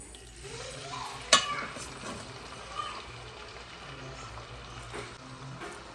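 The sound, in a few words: chicken frying and being stirred in peanut oil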